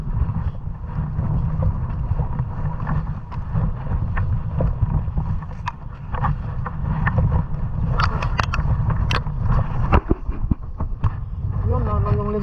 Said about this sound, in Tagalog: Sumisipol yung hangin.